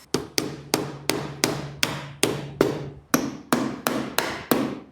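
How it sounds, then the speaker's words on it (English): Steady metal-on-metal hammer strikes driving a pin on a 1948 Ford, about a dozen sharp evenly spaced blows with ringing decay, loud and close, no voices. "then hammer that thing in, and we should be good"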